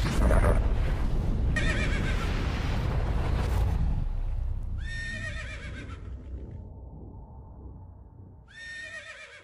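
A cremello horse on a farm lets out a loud, close neigh that trails off, with heavy rumbling wind or handling noise at the start and a second shorter whinny near the end.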